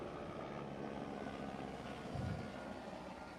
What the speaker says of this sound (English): Got a helicopter coming over top.